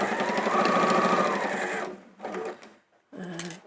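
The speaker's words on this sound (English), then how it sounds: "So back to the machine, 1/4 inch seam all the way around." A domestic sewing machine stitching a quarter-inch seam around a fabric cushion, a rapid steady mechanical whirr close up, then stopping with short bursts of stitching after brief pauses.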